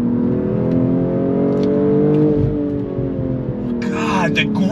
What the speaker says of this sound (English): Love the pops and the bangs from the exhaust.